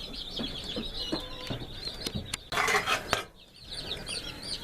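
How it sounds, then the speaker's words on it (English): Cornish Rock chicks in a brooder under a heat lamp, a near, continuous chorus of high peeping and cheeping, with a brief burst of rustling and clatter midway. "Now these are some chicks that I picked up yesterday, which are more Cornish rock"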